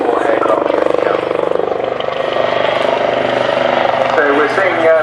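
Royal Navy helicopter at an airshow, its rotor blades producing a rapid, pulsing chop that rises and falls over steady turbine noise, loud and close, with people talking over it.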